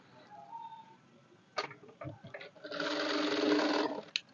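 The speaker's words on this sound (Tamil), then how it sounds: "இதை நான் தைக்க போகிறேன் தைச்சி விட போகிறேன்" A sewing machine stitches a blouse piece. A few clicks and handling knocks come first, then the motor runs in a close, steady whir of rapid stitching for over a second before stopping.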